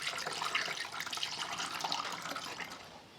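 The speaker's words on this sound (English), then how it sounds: "we're going to go ahead and put some coolant in here" Coolant is poured into the radiator of a Honda GL1500 Goldwing motorcycle, making a close, steady splashing trickle of liquid that runs continuously without talk.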